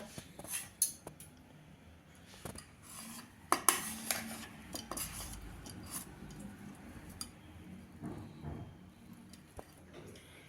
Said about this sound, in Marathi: आता आपण सर्विंग डिशमध्ये काढून घेऊया